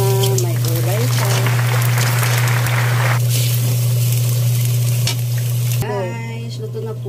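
Dried fish (tuyo) and hotdog are stir-fried in a pan, giving a steady loud sizzle with scraping stirs, under a constant kitchen hum, while someone talks.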